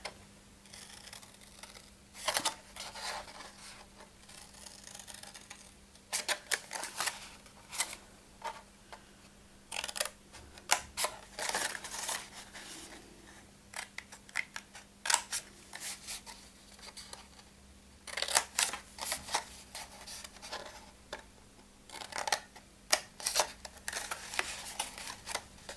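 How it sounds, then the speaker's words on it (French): Scissors snip through folded paper for a small gift box, a long run of sharp, close clicks and short cuts coming in quick clusters with brief pauses, under a faint steady hum. "Avec les ciseaux, nous allons découper tous les bas de plis ici jusqu'à la ligne de pliure."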